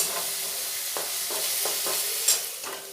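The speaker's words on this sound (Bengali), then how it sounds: "পেঁয়াজটা 2 মিনিট ভালোভাবে ভাজা হয়ে গেছে।" Onions frying in a pan for a prawn malai curry make a loud, steady sizzle up close, broken by several spatula scrapes and stirring knocks.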